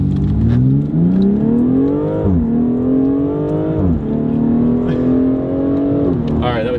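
A BMW M4 engine revs hard in repeated rising pulls, each climbing in pitch and then dropping sharply, with a brief crackle near the end and someone speaking over it.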